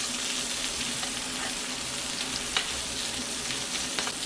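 Steak sizzles in a hot pan, a loud, steady frying hiss with scattered small pops and crackles throughout, no voices.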